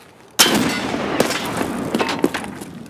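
Gunfire in the video game Escape From Tarkov: a sharp, loud shot followed by several more reports spaced irregularly across a few seconds, each with a ringing tail.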